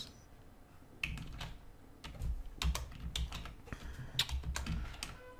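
Quick bursts of typing on a computer keyboard, clattering in uneven clusters of keystrokes, close and fairly loud against a quiet room, with no talking.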